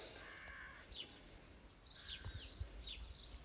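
Seagulls calling outdoors where pigeons and crows also gather, a few faint, scattered squawks over quiet ambient noise.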